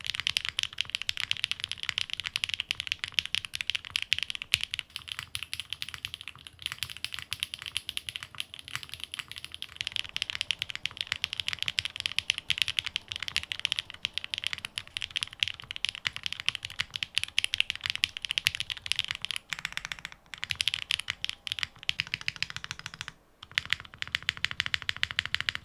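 Steady fast typing on a Neo65 CU keyboard with plate foam and a PCB gasket mount, a dense stream of crisp close keystrokes with occasional heavier spacebar thocks, heard alone without talk.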